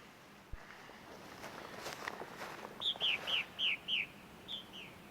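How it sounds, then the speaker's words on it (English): Several short, descending purple martin calls repeat in a quick series against faint outdoor noise and rustling footsteps. "That is the first martin scout that I have seen or heard this year."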